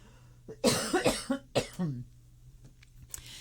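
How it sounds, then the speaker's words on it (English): A burst of several harsh coughs in quick succession, close and loud, trailing off into quiet with a faint hum in the background. "I'm going to cough again"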